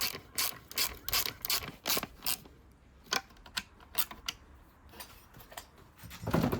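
A ratchet cranks in quick bursts of clicking strokes, tightening a bracket bolt on a 2025 Honda NC750X motorcycle, with short pauses between runs of ratcheting, close and moderately loud.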